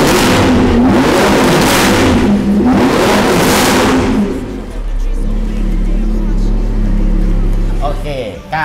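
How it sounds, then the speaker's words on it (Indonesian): An Audi R8 with a modified exhaust revs loudly and up close in repeated surging blasts, then settles into a deep, steady idle rumble. "Suara knalpot enak, terus kencang juga udah cukup."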